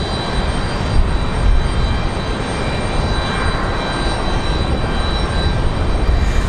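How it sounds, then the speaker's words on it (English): FlexJet business jet arriving from Teterboro at Raleigh Durham airport in windy conditions, a loud steady jet roar with faint whining tones on top, continuous and fairly close. "Here's our flex jet from Teterboro"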